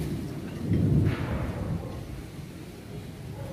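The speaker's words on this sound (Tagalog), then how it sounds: "Lakas na yung ulan." Heavy rain pours steadily, with a deep rumble swelling near the start before settling into a constant wash of falling water.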